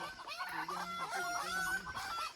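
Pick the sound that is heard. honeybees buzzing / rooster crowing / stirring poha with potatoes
rooster crowing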